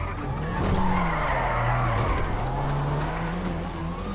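Video game car drifting hard, with a loud, continuous tire squeal over a revving engine tone that rises and falls for about four seconds. A voice can be heard faintly underneath.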